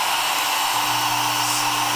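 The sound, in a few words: hair dryer running on first mode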